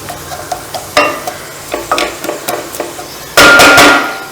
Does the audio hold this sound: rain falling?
no